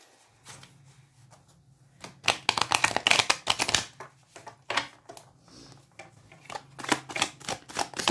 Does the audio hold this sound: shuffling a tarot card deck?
yes